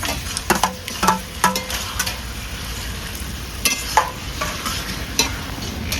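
Fried catla fish head is stirred with taro in a frying pan, giving a continuous sizzle punctuated by repeated clattering scrapes and taps of a spatula against the metal, close and fairly loud with no talking.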